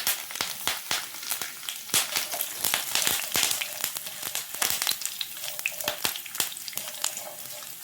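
Curry leaves dropped into hot oil for a Kerala green banana stir fry, a loud, close crackling sizzle with sharp irregular pops and spatters continuing throughout, no talking.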